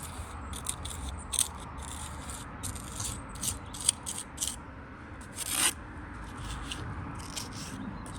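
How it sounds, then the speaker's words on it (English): A steel trowel edge scrapes and presses lime mortar into a stone joint of a 300-year-old property, giving a series of short gritty rubs and scrapes that repeat at close range over a steady background hiss. "So use the edge of the trowel just to compact that joint up full of mortar."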